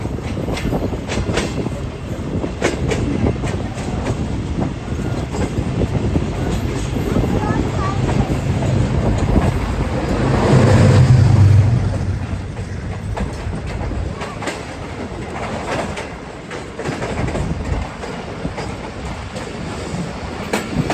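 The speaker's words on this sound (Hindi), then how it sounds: "तो भाई लांडी आउटर पर भी हमें एक ट्रेन मिल गई है और मोस्ट प्रोबेबली ये होगी 37 अब बाबा फरीद एक्सप्रेस।" Baba Farid Express passing at Landhi outer, heard as a steady loud rumble of rail cars with clickety-clack, swelling around the middle then easing, with some voices faintly present.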